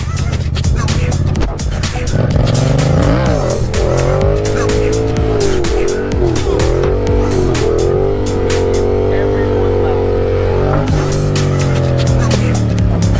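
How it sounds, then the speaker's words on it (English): A Yamaha FZ07 motorcycle doing wheelies, its engine revving hard and loud with pitch swinging up and down repeatedly, up close, with wind buffeting and some talking mixed in. "I'm gonna do a few little chasers, seat standers and whatnot, just to start out with and see how this goes."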